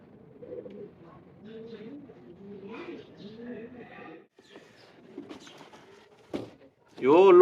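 Domestic pigeons coo in repeated soft, low rolling calls on a rooftop loft in India, close by, followed by a short louder burst near the end; someone talks at times.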